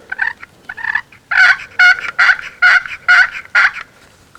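A push-button turkey call gives a series of about nine short gobbling yelps in a fairly even rhythm, loud and close, with no talking.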